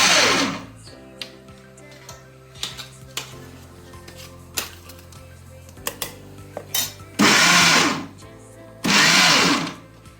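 A kitchen mixer grinder whirs through fresh coconut in two loud sustained bursts near the end, after a stretch of clinks and knocks from handling the jar and lid.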